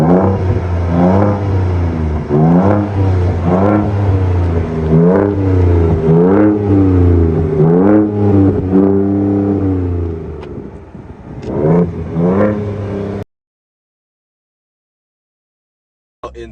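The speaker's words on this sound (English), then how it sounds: "Now let me get some revs from the outside so you can guys hear what it sounds like from the outside." Ford Ranger Raptor engine revved repeatedly, heard from outside the truck: loud, close rising and falling blips in quick succession, the last few more spread out before the sound cuts off abruptly.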